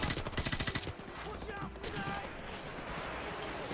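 Rapid automatic gunfire from a weapon in Call of Duty Modern Warfare Remastered rattles in a short burst at the start, then fades into a rumbling game background.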